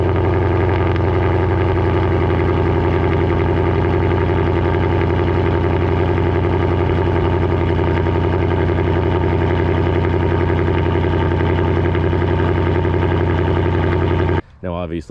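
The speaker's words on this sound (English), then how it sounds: "I will get you guys some sound clips of what a cold start sounds like" A 2022 Mustang GT 5.0 V8 with a resonator delete idles after a cold start, giving a loud, steady, deep rumble that holds constant until it cuts out at the end.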